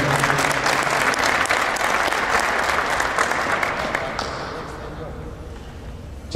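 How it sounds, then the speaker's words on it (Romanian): A gala audience applauds a young rally driver at a Dacia Cup awards ceremony, a dense, steady roar of clapping that holds loud for several seconds, then thins and fades toward the end. "să-l aplaudăm"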